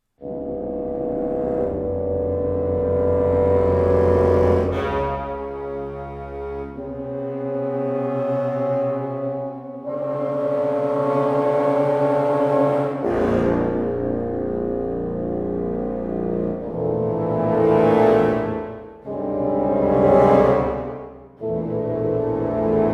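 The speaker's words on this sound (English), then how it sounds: "3 contrabassoons, 2 bassoons, 1 contrabass clarinet, and 2 bass clarinets" Deep, reedy woodwinds (three contrabassoons, two bassoons, a contrabass clarinet and two bass clarinets) play sustained low chords together, swelling and shifting between notes, rich and rumbling, with no voices.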